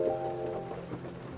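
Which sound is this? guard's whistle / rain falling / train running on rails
rain falling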